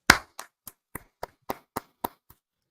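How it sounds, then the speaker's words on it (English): Hand clapping, about nine sharp, separate claps spaced evenly and slowing slightly, close and fairly quiet, each one standing alone against silence. "clap it up. Clap it up."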